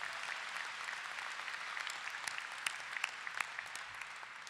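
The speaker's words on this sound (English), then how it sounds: "So I'm going to take another moment to applaud all of you." Commencement audience at a law school graduation applauding the graduates, a steady, even wash of many hands clapping throughout, moderately distant, with a few sharper individual claps standing out near the end.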